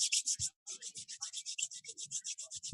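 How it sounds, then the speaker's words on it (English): Palms rub briskly together in a quiet room during a guided yoga session, a soft repeated swishing in even strokes with one short pause, close and alone. "You can rub your hands together."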